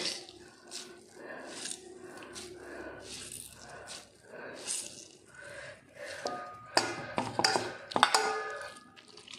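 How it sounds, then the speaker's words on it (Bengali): Chopped garlic and onion mixed with salt are squeezed hard by hand, giving wet squishing and dripping sounds with a few light taps against a bowl, close and fairly quiet. "যতটা গায়ের জোর আছে পুরো চিপে দেবে।"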